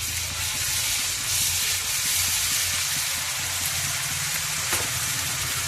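Masala paste sizzles in a pan with a loud, continuous hiss that holds steady throughout, with faint crackles underneath and no one speaking.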